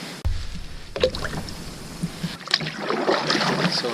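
A kayak moves across a lake while fishing, with close paddle strokes splashing and dripping water, a sharp knock, then a continuous wash of water along the hull, no voices.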